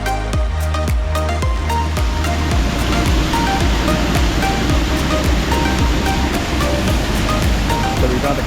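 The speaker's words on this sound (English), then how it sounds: "Welcome to the waterfalls." The Four Waterfalls in Wales give a loud, steady rush of falling water that fills the whole clip, with a few brief knocks and handling sounds near the start.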